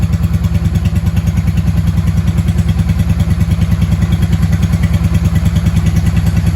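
A 1995 Honda Shadow VLX 600 V-twin idles steadily close by, its loud, even thumping pulse unbroken throughout with no voices.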